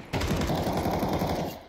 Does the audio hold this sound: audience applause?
no